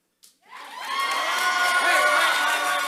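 A live audience at a talk show event in Austin, Texas breaks into loud sustained cheering and whooping with some clapping, swelling quickly after a brief pause and holding at full volume.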